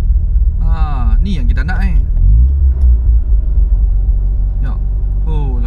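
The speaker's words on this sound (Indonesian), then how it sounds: "Buka aircon, just stay 1000 RPM." A Mazda RX7 FC3S rotary engine idles steadily at about 1000 RPM with the air conditioning on, a close, continuous low rumble running beneath a man's nearby speech.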